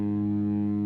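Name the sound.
electric guitar bending up to the ninth in A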